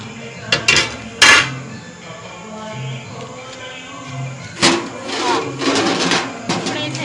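A metal pot is set down among stones, giving a few sharp, close clanks early on and another cluster of scraping knocks and rattles later.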